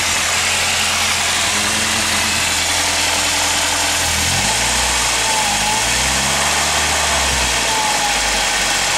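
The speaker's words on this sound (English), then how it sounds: "there's the bearing that's bad right there. That makes this awful whining sound." Saturn car engine idling up close with a bad alternator bearing, a constant loud engine drone with tonal whine running through it.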